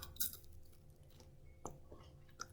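A crispy air-fried french fry is bitten and chewed close up, with a sharp crunch at the start and then quieter crunchy chewing.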